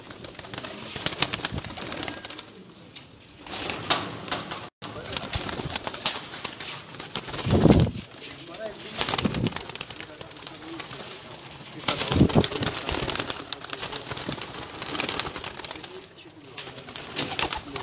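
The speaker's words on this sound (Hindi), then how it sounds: "ये जी प्रवासी कबूतर हैं जी आज शेख असलाम साहब के" Migratory pigeons cooing in soft, repeated calls through a busy outdoor scene, with a few louder broadband bursts around the middle and talk faintly mixed in.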